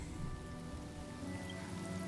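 Steady rain pours down in the video game Honkai: Star Rail, a dense, even hiss of drops on surfaces running unbroken and fairly loud throughout, with a low rumbling bed beneath and no voices.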